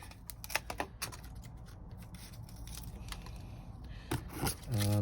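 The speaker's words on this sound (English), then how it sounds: "use my secateurs, and I'm going to cut off anything that looks a little bit brown or rubbish" Secateurs snip dead brown growth off a dormant carnivorous plant, giving faint, close scattered clicks and crisp cuts with soft rustling of leaves between them.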